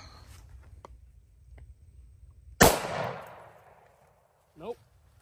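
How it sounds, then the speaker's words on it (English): A single loud, close gunshot from a Bushmaster AR-15 firing a 55-grain .223 Hornady Critical Defense round at homemade DIY body armor outdoors, with a long echoing tail, then a faint short sound shortly after. "here's the ammo that we'll be shooting. This is more critical defense from Hornady. And this should be 55 grain, 223."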